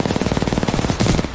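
Automatic gunfire in the video game Titanfall 2, a loud rapid burst of evenly spaced shots rattling close by without pause, with no voices over it.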